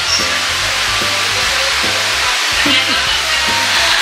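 Maja blanca is stirred steadily in a pot, giving a constant loud bubbling hiss with a regular scraping rhythm from the spoon.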